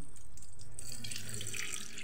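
Tap water runs steadily into a sink while raw chicken is rinsed, a close, constant splashing rush with brief shifts as the flow is disturbed.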